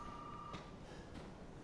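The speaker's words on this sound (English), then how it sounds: "Oh, the phone's ringing!" A telephone rings in the horror game Resident Evil 7, a faint electronic ring tone heard in short bursts over a steady background hum.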